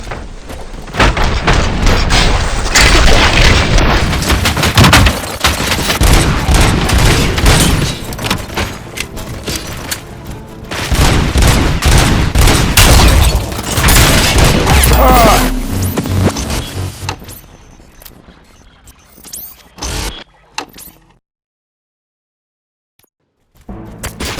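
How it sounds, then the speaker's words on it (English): Gunfire in the video game Robocop: Rogue City, dense loud bursts and booming impacts filling most of the stretch before thinning out into scattered thuds and then falling silent. "Gunshots? What's going on?"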